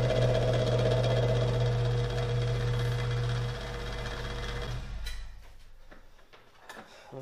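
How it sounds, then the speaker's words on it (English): A milling machine takes a light skim cut on metal, a loud steady hum that runs for several seconds and then winds down, followed by a few scattered clicks and knocks. "that's all I'm doing is just taking a skim cut"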